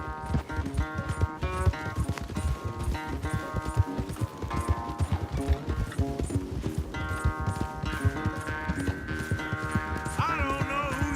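Horses gallop in a Red Dead Redemption 2 race, their hoofbeats pounding fast and steady under a game music score for the whole stretch.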